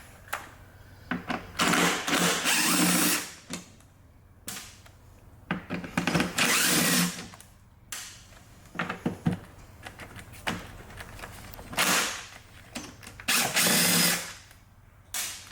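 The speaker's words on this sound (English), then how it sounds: "So I'll probably take all these screws out here, and hopefully this thing will split in half." A cordless power drill backs screws out of a STIHL BR 800 backpack blower housing in repeated short whirring bursts separated by pauses, close and fairly loud.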